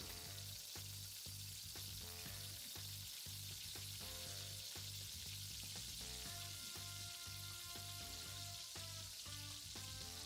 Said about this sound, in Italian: andrò a spadellare i miei spinaci in una padella ben calda con un goccio d'olio